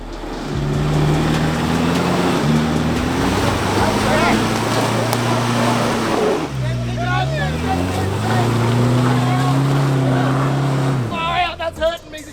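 A 4WD on 33-inch tyres with well-worn tread labours along a wet, slippery, muddy track, its engine droning loud and close, revving and dipping, then easing off near the end.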